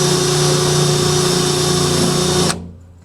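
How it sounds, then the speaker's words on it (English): Power drill whirring steadily as it bores through a gas tank of a 4WD Daytona, a loud close-up whine that holds for about two and a half seconds and then stops sharply. "let's see if this will drill this hole that's already set."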